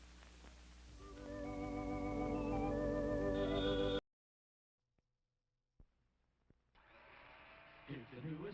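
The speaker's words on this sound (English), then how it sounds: "It's a General Electric blender that's going around." A General Electric kitchen blender whirs loudly with a rising motor pitch for about four seconds, then cuts off abruptly into near silence before other faint sounds return.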